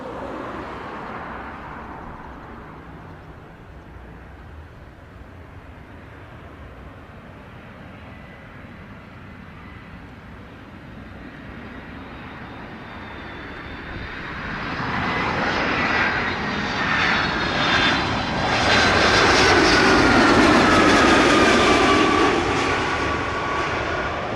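An airplane lands at Montego Bay airport in Jamaica. A distant engine roar grows steadily louder over the second half, with a whining tone sweeping downward as it passes.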